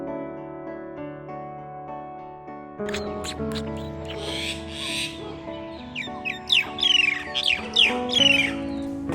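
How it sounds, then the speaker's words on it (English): Soft instrumental music plays throughout, joined partway by bright bird squawks and chirps that grow busier toward the end. "The chirping of the birds really calms me down."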